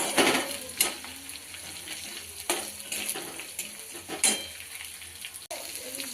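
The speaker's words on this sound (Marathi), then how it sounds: "लसूण आणि कढीपत्ता मस्तपैकी लाल होऊन देऊया" Garlic and curry leaves frying in oil in a pan for misal, a steady crackling sizzle with intermittent spoon scrapes and stirring clatter, close and fairly loud.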